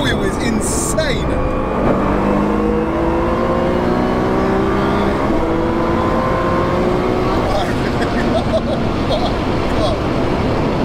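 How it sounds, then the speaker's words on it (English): A loud, aggressive tuned 1576 bhp Nissan R35 GT-R engine roars continuously as it accelerates, revving high and steady, heard from inside with occasional voices underneath. "When you're accelerating and come off the throttle, the recoil is insane."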